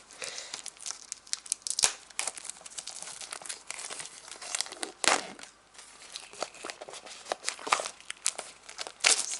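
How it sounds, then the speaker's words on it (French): Continuous crinkling and tearing of plastic blister packaging being pulled off, with irregular sharp crackles and rustles close up, no voices. "J'adore ce bruit de papier quand on enlève le blister."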